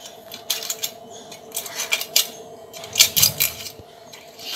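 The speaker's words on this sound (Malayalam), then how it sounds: "ഈ ഫോയിൽ പ്ലേറ്റ് കത്രയും കൊണ്ട് മുറിച്ചാൽ കത്രയ്ക്ക് നല്ല മുറിച്ച് കിട്ടും" Scissors snip through a thin foil plate in a series of sharp, crinkly metallic cuts, irregular and close, with no talking.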